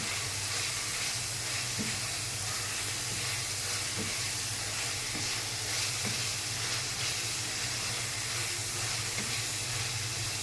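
Poma fish sizzles in hot oil in a pan, a steady, dense crackling hiss with faint low knocks underneath and no talking.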